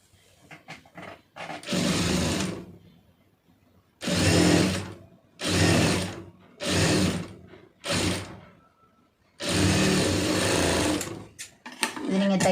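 A sewing machine stitching fabric in a series of loud, close bursts of fast needle chatter, each lasting one to two seconds, separated by short pauses and light handling clicks.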